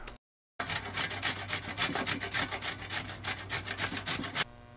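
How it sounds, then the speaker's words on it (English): Carrots shaved on a four-sided Cuisipro grater give a steady run of rhythmic scraping strokes, close and fairly loud, about two strokes a second, after a short silent gap at the start. "let's start off shaving some carrots."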